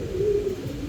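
One short, low coo from a pair of Black Mong pigeons, heard close and alone against a soft background hiss.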